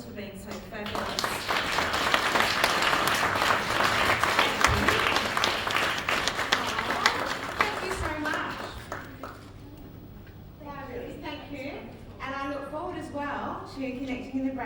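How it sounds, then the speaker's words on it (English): An audience at a networking event gives a round of applause, a dense burst of clapping that swells and fades, with a speaker's voice coming in over the tail end. "I want to ask everyone to give Karina a round of applause for being so fabulous."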